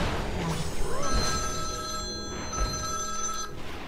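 A mobile phone rings close by with a steady electronic tone that repeats twice during a League of Legends gameplay session, with someone talking faintly underneath.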